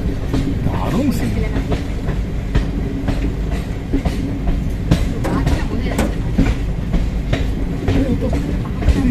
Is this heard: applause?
no